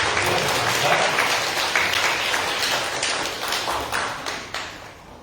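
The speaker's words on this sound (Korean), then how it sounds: "다시 한번 격려의 박수를 보내드립니다" Sustained applause from a church congregation after a hymn, dense and steady for several seconds, gradually thinning slightly toward the end.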